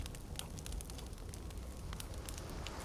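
A campfire crackles in the survival video game The Forest, a steady close bed of fire roar with frequent sharp pops and snaps throughout, no voices.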